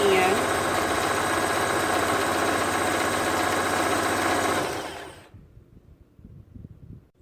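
A sewing machine runs steadily for about five seconds, stitching a zigzag seam down the side of a shirt, then stops, leaving a few quiet handling sounds.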